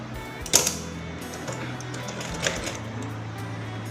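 A sewing machine stitching the side seam of a kurti, a steady low mechanical hum with a few clicks and knocks, close and fairly quiet, running alone without talk.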